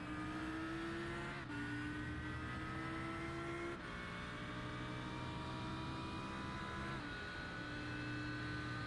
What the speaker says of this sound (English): Driving in the Audi R8 machine.